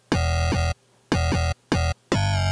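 Unprocessed mid bass from the Serum synth with just two oscillators on. Loud, buzzy bursts come in a choppy rhythm with short silent gaps, ending on a longer held note.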